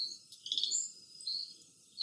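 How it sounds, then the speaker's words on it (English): A bird calls at a wild camp in Brazil with faint, high, repeated chirps and trills in short bursts, quiet and somewhat distant, with no talking. "I think it's a bird."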